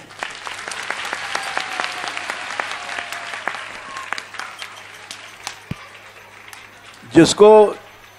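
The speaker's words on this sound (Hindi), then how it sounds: "ताली बजा दो।" An audience at a devotional gathering bursts into applause, a loud short round of clapping that follows a stretch of someone talking.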